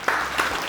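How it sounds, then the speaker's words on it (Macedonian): Applause from a studio audience on a talk show, a short burst of broad clapping that swells and fades twice within under a second, fairly loud and with no talk over it. "Аплауз."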